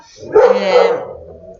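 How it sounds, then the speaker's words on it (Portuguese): A dog barks outside at the front of the house, one loud, close bark-like yelp that trails off with a whine, standing alone without talk. "desculpa o cachorro latindo aqui na frente"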